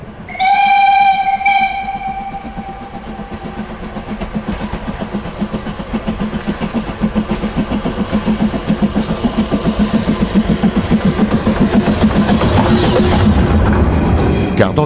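A Mallet 131T steam locomotive in the Harz mountains sounds a loud, bright whistle at the start, then its exhaust chuffs build in a steady, quickening rhythm, close and strong, with rail and carriage noise rising beneath.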